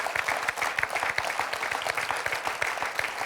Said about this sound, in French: On peut applaudir Florence.